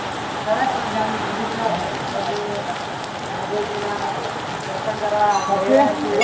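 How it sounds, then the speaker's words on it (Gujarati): Steady rain pours down at a temple in a continuous hiss, loud and close, with a faint murmur of devotees' voices in the background. "એક બાજુ વરસાદ ચાલુ છે, ભક્તો છતરીઓ લઈને આવે છે"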